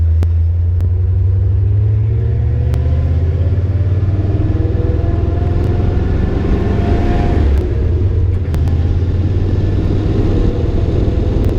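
A C4 Corvette with a Flowmaster 40 series exhaust, modified catalytic converters and the muffler baffles cut out rumbles loudly and steadily at idle, a deep continuous drone close by with no talking.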